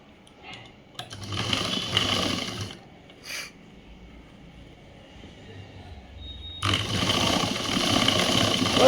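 A sewing machine stitches a government school uniform shirt in two bursts of rapid, whirring, close mechanical running, the first about two seconds long and the second starting near the end and continuing, with quieter handling noise between.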